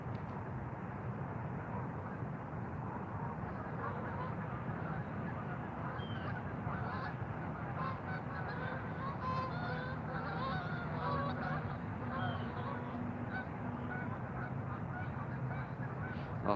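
Geese honk outdoors at sunrise near a fishing spot, a busy chorus of overlapping calls over a steady low outdoor rumble, with a faint aircraft-like drone underneath and no talking.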